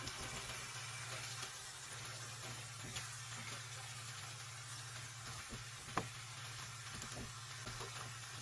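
Rabbit meat sizzles in a skillet, a soft steady crackle under a low constant hum, with one brief sharp tap partway through.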